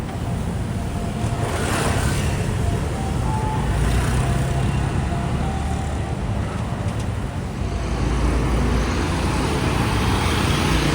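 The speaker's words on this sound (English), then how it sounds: "Streams of traffic." Steady street traffic in Jakarta, Indonesia, a continuous roar of cars and motorbikes passing close by, dense and loud throughout with no breaks.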